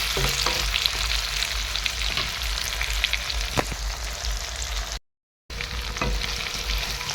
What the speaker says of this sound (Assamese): এতিয়া মাংসখিনি মই অলপ টাইম ভাজিলোঁ